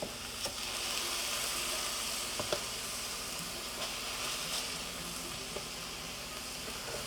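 Pork burger patties sizzle steadily in a hot pan after being flipped, a constant fizzing hiss with a few faint pops and clicks, with no talking over it.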